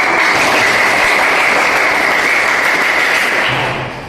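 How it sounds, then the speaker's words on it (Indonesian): A group in a classroom teaching practice session claps loudly and steadily for a few seconds, the applause fading out at the end. "Tepuk tangan untuk kita."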